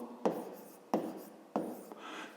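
A pen writes out a maths expression on paper, with three distinct close taps and scratchy strokes spaced evenly apart, quiet and without speech.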